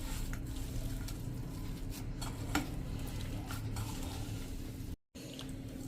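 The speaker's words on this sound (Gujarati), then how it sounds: "અને હવે એકદમ સરસ આ બધું આપણે મિક્સ કરી લેશું। પહેલાં તો મસાલો જ મિક્સ કરી લેશું।" Spices, mashed potato and semolina dough being stirred together in a bowl, giving faint, soft scraping and squishing sounds with light clinks, close by and quiet, with a brief silent gap.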